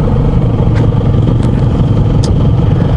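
A Honda Vario 160 scooter's 160 cc engine gives a steady, fairly loud mechanical rumble with a light clattery texture, running continuously without any talk.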